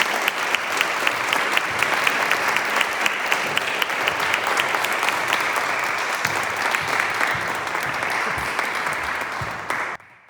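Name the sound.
audience applause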